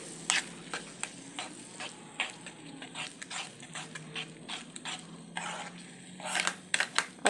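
Kienyeji eggs frying with tomatoes in a pan, stirred repeatedly, giving a steady sizzle broken by frequent sharp scraping and clinking strokes, denser and louder toward the end.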